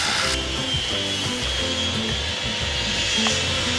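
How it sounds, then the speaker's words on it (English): An angle grinder sands out layers of fiberglass on a boat hull during a core replacement, giving a close, loud, steady whine and rasp that runs throughout with no talking. "We have to get the grinder and get it out."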